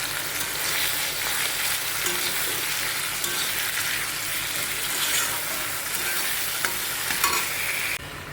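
Potato and pointed gourd stir-frying with green chilli, cumin, ginger and coriander powder, a loud continuous close sizzle with stirring that stops abruptly near the end, no talk.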